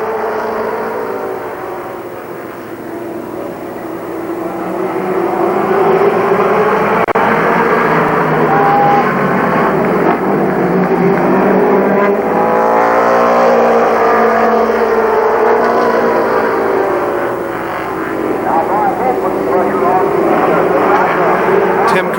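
Race car engines roar and rev as a pack starts a feature race at Columbus Motor Speedway, a loud continuous drone rising and falling through the turns, with an announcer talking over it.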